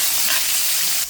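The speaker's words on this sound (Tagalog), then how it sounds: "At tayo ay magigisa na ng lamas." Spices sautéing in a hot pan, a loud, steady bright sizzle and hiss that holds for about a second, close and unbroken.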